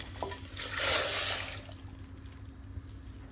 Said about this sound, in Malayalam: ആദ്യം നമുക്ക് കുക്കറിൽ കൊള്ളിയിട്ടിട്ട് ഇതിൽ ആവശ്യത്തിനുള്ള വെള്ളം ഒഴിക്കാം